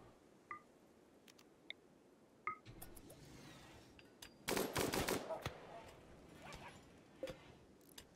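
Gunfire in the video game Rimworld, sparse small clicks and beeps building to a dense, loud burst of automatic shots midway, then a few scattered follow-up pops against a quiet background.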